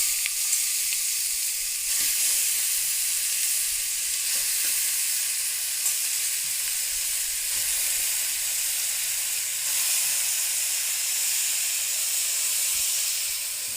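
Chicken added to hot oil for chicken bassaru keeps up a loud, even hiss and sizzle at close range, with faint stirring scrapes now and then. No one speaks over it.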